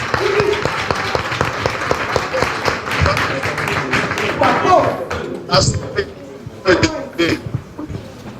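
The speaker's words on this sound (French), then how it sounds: "on t'applaudit 2 secondes." Audience applause at a FIDHOP human-rights gathering, a steady crowd clapping mixed with scattered taps and thuds, with voices and chuckles rising and dropping through it, growing choppier in the second half.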